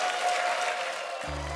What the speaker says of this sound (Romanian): Mai vreau așa un rând de aplauze, dar de data asta ca și cum ați fi vii